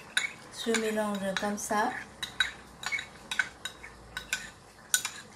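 Spoon clinking and scraping against a bowl while a sukiyaki sauce of water and ginger is mixed for wok-cooked chicken thighs, a quick, close series of metallic knocks, and a few words are spoken near the end.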